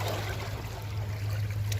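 Calm sea water laps and trickles gently against stones on a quiet shore, a soft continuous burble with a low steady hum underneath and no voices.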